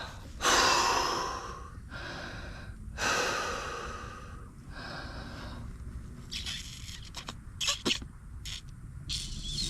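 Someone blows hard by mouth into the fuel line of a 1969 Pontiac Catalina wagon: a few long, breathy rushes of air, each followed by a pause, then quieter clicks and small handling noises, up close with no talk.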